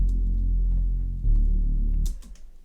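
Deep electronic bass line from a dance track, thick low notes sustained in a short phrase that cuts off abruptly near the end, played alone.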